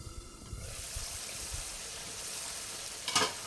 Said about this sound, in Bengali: এখন আবার লাড়ে ছেড়ে দিচ্ছি